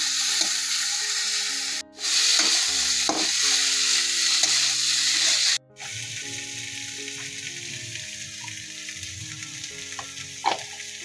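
Chopped onion, tomato and green chili frying in oil, a loud continuous sizzle close by with intermittent clicks and scrapes of stirring, broken by two brief drops in the hiss.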